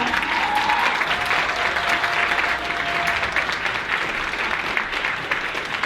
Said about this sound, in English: Everybody give Barbara a round of applause.